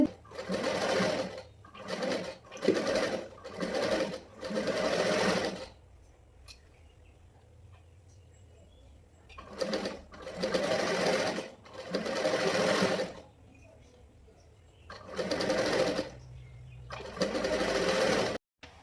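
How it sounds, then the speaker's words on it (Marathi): A sewing machine stitches a blouse in a series of loud, close whirring runs of one to three seconds, separated by short quiet pauses and one longer gap, with faint room sound between bursts. "ब्लाऊज शिवून झाला"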